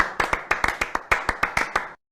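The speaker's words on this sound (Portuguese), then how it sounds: "Tem uma salva de palmas aqui pro profissional" A single person claps about a dozen times in a quick, slightly uneven rhythm, close and dry, then stops abruptly into near silence.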